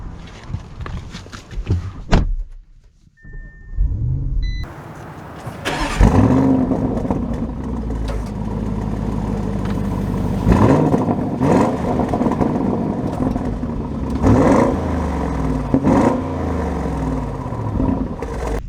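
A 2023 Audi SQ7 engine cranks and fires into a loud, steady idle close by, then a rising rev as the three-row SUV sets off, with a few faint clicks before the start.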